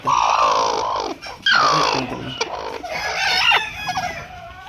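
Free-range village chickens cluck and call loudly and continuously at close range, with a rooster-like crowing cry rising through the middle of the stretch.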